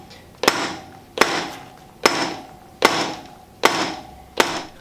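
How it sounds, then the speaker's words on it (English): Six sharp, evenly spaced whacks on a punch tool cutting a hole in a rubber handlebar grip, each a loud close impact with a short ringing decay, about one every three-quarters of a second. "So I'm just going to whack the end a couple of times"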